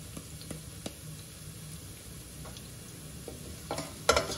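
Curry leaves and asafoetida hit hot oil in a pan for a dried pea and potato curry, giving a faint low sizzle with scattered clicks and scrapes and a louder crackle near the end.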